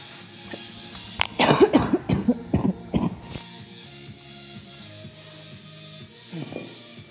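A burst of harsh coughs, several in quick succession, close by, followed by quiet and one more short cough near the end.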